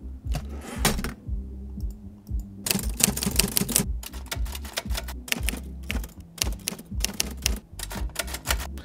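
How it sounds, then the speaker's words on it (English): Typewriter typing sound effect: bursts of rapid mechanical key strikes with short pauses between flurries, crisp and close, no voices. "here you'll see a lot of typewriter effect"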